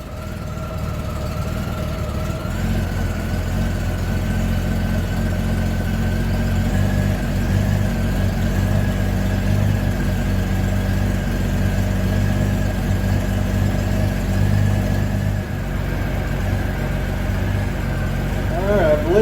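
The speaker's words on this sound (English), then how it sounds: "she's idling about 750-ish" A Honda GL1500 motorcycle engine idles at about 750 rpm after carburetor installation, holding a steady, close, low hum with a faint whine above it and no talk over it.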